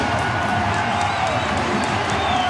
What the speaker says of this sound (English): The crowd's gone wild.